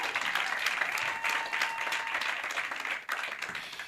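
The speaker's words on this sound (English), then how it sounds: "Can we please give them a round of applause?" Applause from the audience at a fashion awards show, a fairly distant, steady crowd clapping with a brief dip partway through before resuming.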